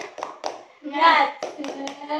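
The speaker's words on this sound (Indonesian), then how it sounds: "Tepuk semangat." A group of children claps in a rhythmic spirit cheer at a school group session, with several sharp clap bursts in a short pattern. Young voices chant in between and along with the claps.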